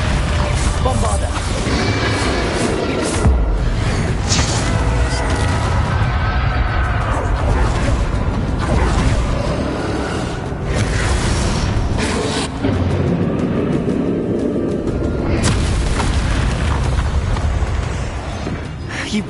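The Bombarda blasting spell in Hogwarts Legacy goes off amid a loud, continuous wash of booming, rumbling explosion noise and magical battle effects, with a voice talking over it.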